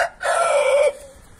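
A single fighting rooster crows once, close and loud, a short strained call lasting under a second.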